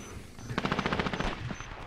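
A minigun in the video game Dirty Bomb fires a rapid, evenly spaced burst of about a second, a loud mechanical rattle of gunfire.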